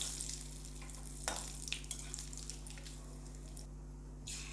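Cinnamon, dried red chillies, cumin and bay leaves tempering in hot oil, crackling and sizzling quietly and close up, with a few small pops and a soft stir, over a low steady hum.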